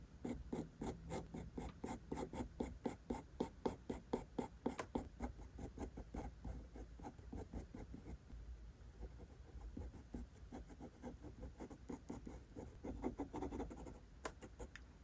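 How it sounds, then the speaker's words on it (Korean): A pencil sketches hands and feet on paper in quick, close, rhythmic scratching strokes, steady and alone throughout with no talking. "그리고 다시 흐름을 잡고 다시 그려줍니다"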